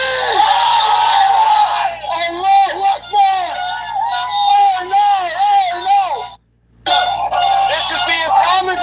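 Crowd outdoors celebrating a World Cup win, loud yells and whoops rising and falling near the microphone, with one brief drop to near silence before the cheering resumes.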